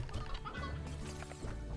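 Hens cluck and squawk in the Slime Rancher video game, a busy, continuous flock of game-creature fowl sounds over a low droning background, no talking.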